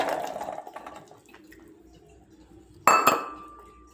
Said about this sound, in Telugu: ఇవి బాగా బాయిల్ అయ్యాక స్ట్రెయిన్ చేసుకుంటా, నీళ్ళు మొత్తం తీసేస్తా